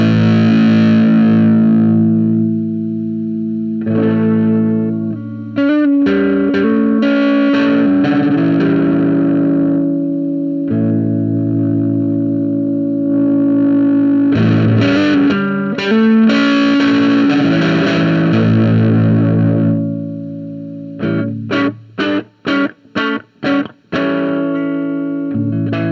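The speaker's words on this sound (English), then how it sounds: "if you wanted that more overdriven, not fuzzy part in the middle" An electric guitar runs through a SilkTone Fuzz pedal set for an overdriven tone. Loud sustained chords ring out with thick distortion, followed by a burst of short, choppy stabs near the end, and no one talks.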